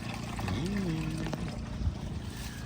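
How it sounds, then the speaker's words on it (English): Drain water from a portable laundry washer flows outdoors in the woods into a sewage tank, making a soft, continuous trickling pour with a faint voice in the background. "It's gonna flow in there naturally. I just wanted y'all to see the water flow."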